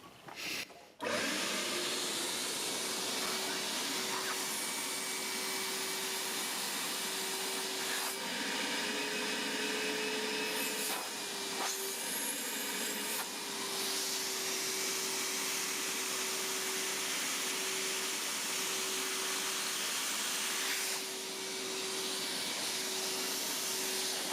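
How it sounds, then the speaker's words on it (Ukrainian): A RedLine RL-3-80 vacuum cleaner with two of its three motors running whirs loudly and steadily, a constant high hum with slight pitch wavering, running alone for the whole stretch. "Пилосос Reliant 3 мотори 4500 Вт. Перевірка двох моторів."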